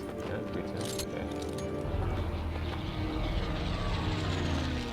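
Airplane engine drone from the Call to Arms video game, with a steady propeller-aircraft rumble and hum running throughout and a few clinking impacts early on.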